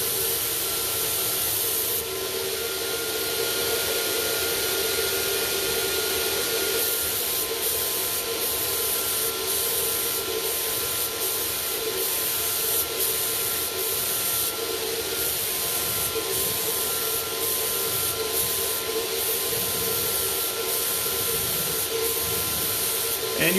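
A paint sprayer hisses continuously and fairly loudly while coating the top of a piece of furniture, with a steady spray texture throughout and voices talking faintly underneath.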